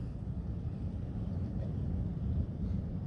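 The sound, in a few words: wind blowing outdoors in the woods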